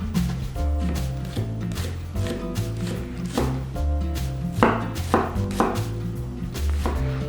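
A knife cuts through an onion in repeated strokes, following the curve of the bulb, with steady close chopping taps on a board under low background sound.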